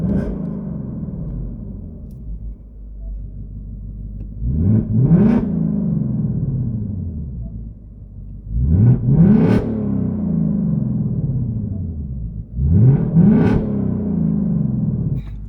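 A 2024 Mustang Dark Horse V8 idles at a low, steady rumble in quiet mode, broken by three brief throttle blips that rise and fall in pitch, evenly spaced and fairly close.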